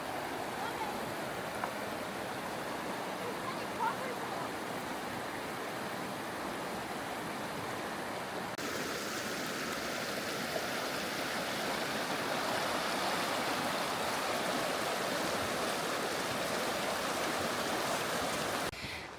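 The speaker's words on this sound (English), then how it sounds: "Right next to the White River." The White River flows right beside a campsite on Mount Rainier, a constant broad rushing wash of water that stays even and unbroken throughout, with no clear talking over it.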